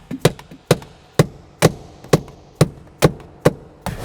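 Steady hammering on a Mini Cooper parking brake cable during replacement: eight or nine crisp, evenly spaced blows, roughly two per second, close and loud with no talking.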